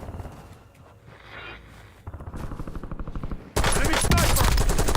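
Rapid automatic gunfire in Call of Duty Warzone, a few scattered shots building into a sustained loud burst of repeated reports near the end, with some voice chatter underneath.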